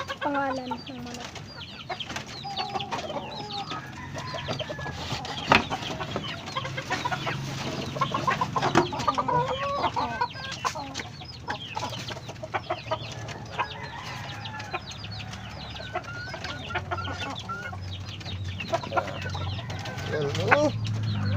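Backyard chickens clucking and squawking at feeding time, a continuous busy flock chatter near and far, with sporadic sharp calls and faint background voices.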